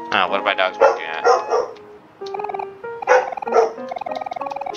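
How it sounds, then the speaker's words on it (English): Dogs in the video game Omori bark in a quick series of yaps and bow-wows, close and loud, continuing in rhythmic bursts through the clip. "Oh, what are my dogs barking at?"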